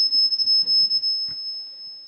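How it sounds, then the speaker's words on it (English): A kitchen temperature alarm emits a thin, steady high-pitched electronic tone that holds throughout, with faint background clatter and a brief knock partway through. "That's the temperature alarm on the kitchen going off."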